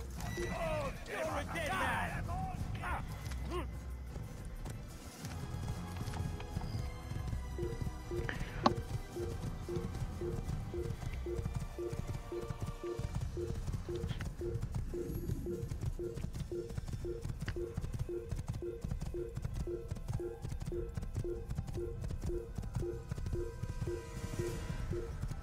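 In Assassin's Creed on Xbox Series S, a horse whinnies loudly near the start, then steady rhythmic hoofbeats clip-clop for most of the stretch beneath game sound, with someone talking over it.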